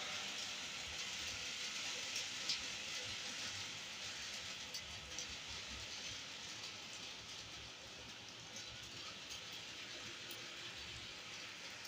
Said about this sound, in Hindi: आज फिर बहुत ज़्यादा बारिश हो रही है